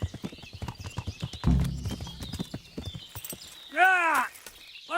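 Horse hooves clip-clop in the medieval game Kingdom Come: Deliverance, giving a quick, irregular run of close, sharp strikes, followed by a brief horse whinny near the end.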